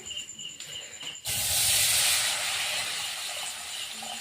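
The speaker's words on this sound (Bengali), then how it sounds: "ব্রয়লার মাংসটা অল্প গরম জল দেই কড়াইতে।" A loud, steady hiss of hot water in a pan for broiler chicken meat starts abruptly after a second of quieter background and continues at full strength to the end.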